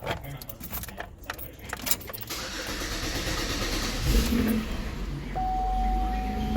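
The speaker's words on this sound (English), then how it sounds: "Let's see if she fires up with a brand new battery." A Cummins diesel truck engine with a new battery, heard as key jangling and clicks followed by a brief starter crank, then a steady rumbling idle close by with a faint tone later.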